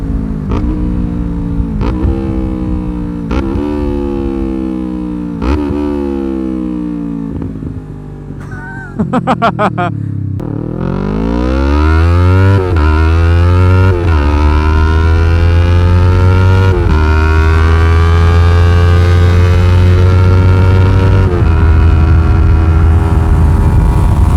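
A highly modified Yamaha R3 motorcycle is ridden at full throttle, its engine screaming up through the revs in repeated rising pulls between gear changes, then holding a loud, sustained high-rev wail.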